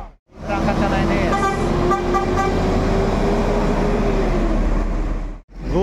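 Bus horn toots over an idling diesel engine as a bus departs a terminal in West Sumatra, a sustained loud honk with a slightly bending pitch, traffic rumble beneath and an announcer's voice in the background.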